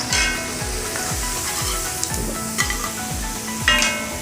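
Pakkavada fritters deep frying in hot oil, a continuous crackling sizzle close by, with repeated low thumps from the pan or utensil at a steady rhythm.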